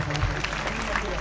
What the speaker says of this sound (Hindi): तालियां जोरदार बजाइए साथियों।